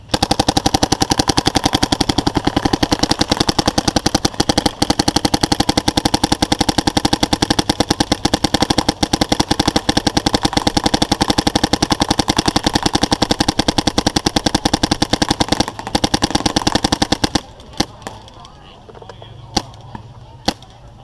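Planet Eclipse Ego LV1 paintball marker firing a long, rapid, steady stream of sharp shots close by for about seventeen seconds, then a few scattered single pops.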